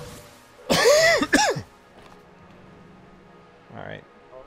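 A man coughs and clears his throat in a short harsh burst, then goes quiet, with a faint second throat sound near the end, all close to the microphone.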